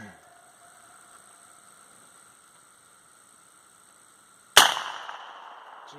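A single sharp gunshot is fired at a blue target downrange, loud and close after several seconds of quiet outdoor hum, with a brief ringing decay.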